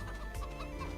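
Chickens cluck softly in Farming Simulator 25, a couple of faint clucks over a steady low background hum.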